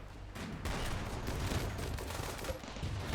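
Rattling bursts of tank gunfire from a battle in the video game Rimworld, a dense, sustained fusillade that roars loudly and continuously for a few seconds with no voices over it.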